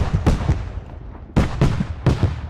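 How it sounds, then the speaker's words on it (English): A .50 cal machine gun firing in the Arma 3 video game, delivering short bursts of heavy, booming shots in separate clusters with brief gaps between them, close and loud. "Now the 50 cal's firing up at him."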